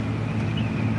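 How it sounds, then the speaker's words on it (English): Outdoor wind rushes against the microphone in a steady, loud low rumble for a brief moment, with no other distinct sounds. "Yeah, it is kind of windy."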